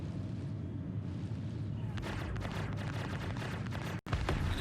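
Omni Skies laser cannons firing in Star Citizen, a rapid stream of crackling bursts that begins partway in over a steady hum and stops briefly near the end before resuming.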